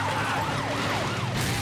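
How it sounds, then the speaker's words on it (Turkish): A wailing police car siren in the video game GTA 5 sweeps up and down in rapid cycles, fairly close, over a low rumbling background. "Bir de üstünden polis arabası geçti."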